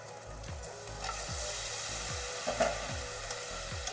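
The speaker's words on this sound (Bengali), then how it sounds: "এখন আমি দিয়ে দেবো এই যে ম্যারিনেট করা চিকেন। এই যে আমি দিয়ে দিচ্ছি" Marinated chicken dropped into hot oil in a pan for a village-style country chicken curry, giving a steady close sizzle with a few sharper crackles and low knocks from stirring, with no talking.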